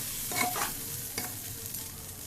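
Rice frying in a hot pan with spices, a close, continuous sizzle with a few quick stirring scrapes.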